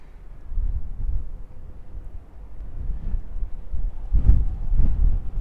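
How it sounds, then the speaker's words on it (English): Crisp autumn wind buffets the microphone on the rooftop of Saint Peter's Basilica in the Vatican, a low, steady rumble that swells into stronger gusts near the end. "Really nice wind. Crisp fall wind."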